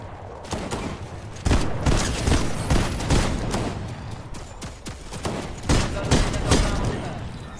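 Shotgun blasts ring out in a Fortnite match, a rapid string of sharp, booming shots fired in irregular bursts, some overlapping, close and loud.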